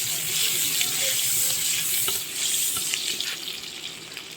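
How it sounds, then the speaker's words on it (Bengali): Chopped onions frying in hot oil in a pan, a steady, close hiss of sizzling with faint scraping, fading slightly toward the end. "প্রথমে আমরা তেল দিলাম, তেল দেওয়ার পরে দিলাম পেঁয়াজ কুচি"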